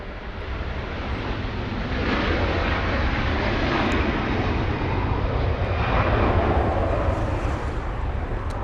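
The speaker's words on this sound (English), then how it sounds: "Let's take a listen to the Rolls-Royce engines getting a move on." Airliner with Rolls-Royce jet engines taking off at Los Angeles International Airport, a loud, steady broadband roar that swells slightly and holds through the whole stretch, heard from nearby outdoors with some wind.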